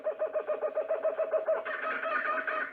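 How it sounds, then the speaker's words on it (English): A kookaburra call pitched down to serve as a stock monkey sound effect, a rapid rhythmic run of hooting, chattering pulses that swells into a louder, denser laughing cackle near the end, heard alone and close. "The dolphin and monkey are actually kookaburras."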